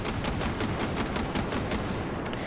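An Mk19 grenade launcher fires in a sustained full-auto burst of rapid, evenly spaced booming reports, loud and close, with no pauses.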